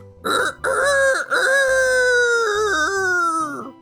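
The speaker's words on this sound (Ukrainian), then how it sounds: "як побачив її півень, що сидів на колодязі, так і заспівав" A rooster crows nearby, loud and drawn out, with a couple of short opening calls before a long, wavering final note.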